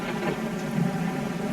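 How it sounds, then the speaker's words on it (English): Rain pours steadily in The Parasites video game, a dense even hiss of falling water with a low rumbling undertone, no voices. "As you can see now, it's raining"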